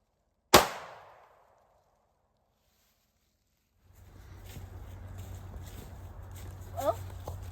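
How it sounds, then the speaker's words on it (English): A single sharp 9mm handgun shot cracks out loud and close, with a short decaying tail, followed by silence and then steady outdoor background noise. "We've got a 9mm handgun"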